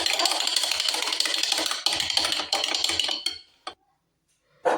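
A spoon briskly stirs a paste for homemade glass cleaner in a hard container, rapid scraping and clinking strokes that come in bursts, then stop, then a last clink at the end.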